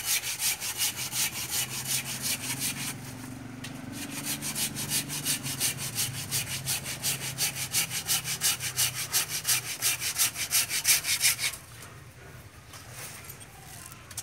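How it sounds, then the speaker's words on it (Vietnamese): A saw cuts steadily through the trunk of a 20-year-old lucky tree (Dracaena fragrans), with fast, even rasping strokes, loud and close, continuing without pause and easing off near the end. "tiến hành cưa chỉnh sửa lại cho cây phát tài nha các bạn."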